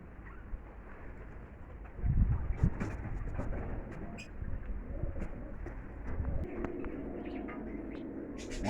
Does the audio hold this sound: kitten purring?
no